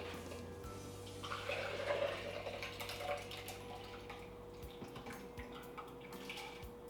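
Soaked red lentils and their soaking water are poured into a NutriBullet, giving a soft splashing pour for a few seconds that then trails off into light drips and clatter over a faint hum.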